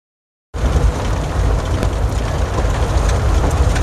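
Steady rain hisses and patters on surfaces at Succor Creek in eastern Oregon, a dense continuous wash starting abruptly and holding an even level throughout, with no voices.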